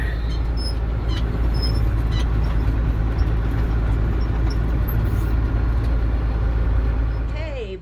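Farm vehicle spreading fertilizer drives through a tall third-cut hay field, its engine a loud, steady, close rumble throughout with faint rustling on top, easing off at the very end.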